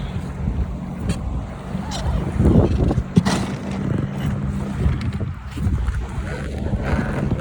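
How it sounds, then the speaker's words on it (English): A Glacier Cruise tour boat engine rumbles low and steady on the water in Whittier, Alaska, mixed with wind buffeting the microphone and some splashing, fairly close. "There's the Glacier Cruise tour boat."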